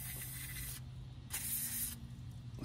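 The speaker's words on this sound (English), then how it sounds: "So I'm just going to spray WD-40 everywhere, try to get this clean." Aerosol WD-40 sprayed from a can onto a Volvo Penta SX-A powered trim tilt pump, two steady hissing bursts close to the microphone with a short gap between them, no voices.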